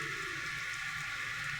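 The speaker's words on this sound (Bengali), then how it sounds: "দেখুন কত সুন্দর বৃষ্টি হচ্ছে" Steady hiss of rain falling, even and continuous with no pauses or talk over it.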